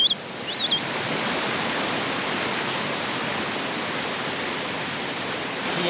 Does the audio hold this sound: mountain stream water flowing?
yes